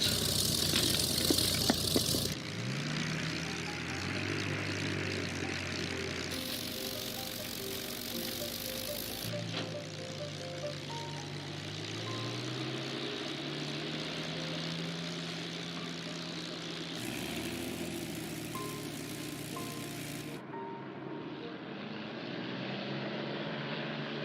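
A Supermarine Spitfire monoplane fighter's engine drones steadily with shifting pitch as the aircraft departs, loud and continuous throughout with no talk.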